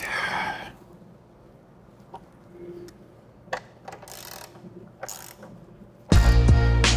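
A ratchet tightens motorcycle engine guard bolts in short, sparse clicking bursts near the microphone, ending in a sudden loud burst of mechanical noise.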